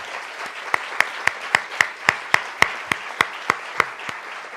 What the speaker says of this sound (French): que l'on réserve un moment d'applaudissement le plus nourri possible